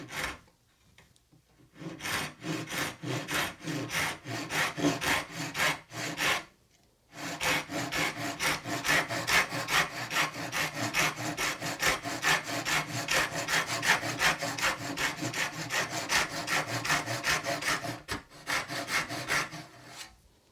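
Restored small backsaw cutting through wood, a long run of rapid rhythmic rasping strokes close up, with a short pause near the start and another brief break before the strokes resume and continue steadily to the end.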